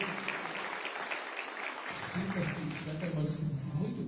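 A church congregation claps together to welcome a visitor during a Sunday evening Baptist service, a steady wash of applause with a voice speaking over it near the end.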